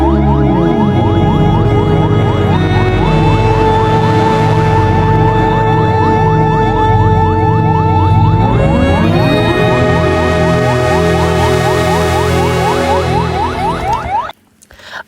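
Fire service vehicle sirens wail loudly near a crash site, with the rising and falling tone continuing throughout before cutting off abruptly near the end.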